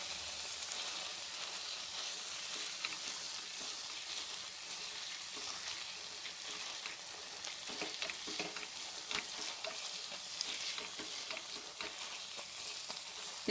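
Cooked pumpkin is mashed in a pan for a Navratri phalahari kheer, giving a faint, continuous wet sizzling and squelching with scattered soft scrapes of the masher and no talk.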